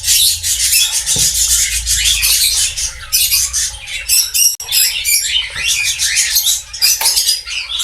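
King quail being released into an aviary colony, with continuous high chirps and squawks close by over a low steady background hum; no talking.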